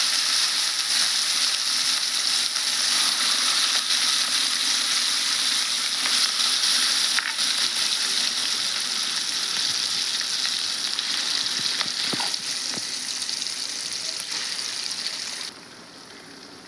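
Cabbage chutney tipped into hot tempering oil gives a loud, steady hissing sizzle that holds for many seconds, then eases somewhat with a few stirring clinks near the end, close up and without voices.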